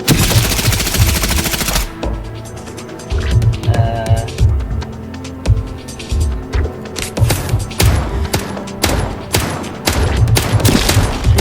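A rapid-fire gun mowing down zombies in a mobile advert game rattles off loud, tight bursts of repeated shots, with a brief lull before the fire resumes in heavy runs.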